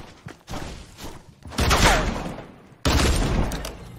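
Video game gunfire rings out in loud, close bursts, with a heavy volley near the middle and a second sharp onset later that carries a rumbling tail.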